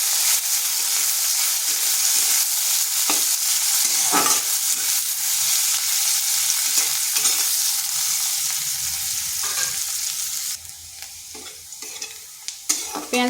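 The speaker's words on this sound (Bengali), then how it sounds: "পেঁয়াজটা লাল লাল করে ভেজে নেব" Sliced onions fry in oil in a wok with a loud, steady sizzle close by, broken by repeated scraping stirs that continue throughout, with no talking.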